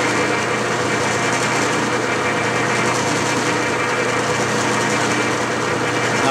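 A metal lathe cutting an Acme thread, its motor and cutting making a steady, loud mechanical drone with a high whine that holds evenly throughout.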